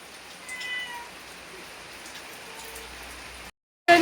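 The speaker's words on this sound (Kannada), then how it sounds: "ಮಳೆ ನೋಡಿ ಗೈಸ್ ಎಷ್ಟು ಜೋರು ಬರ್ತಾ ಉಂಟು." Heavy morning rain pours steadily in a close, even hiss, with a cat meowing faintly a few times; the sound cuts off near the end.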